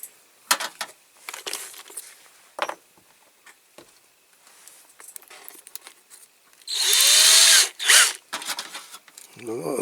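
Power drill boring out small rivets on a Corgi Mercedes-Benz Unimog 406 toy with snowplough, heard as a loud sustained burst of whining drilling near the end, preceded by scattered clicks and handling noises with some talk.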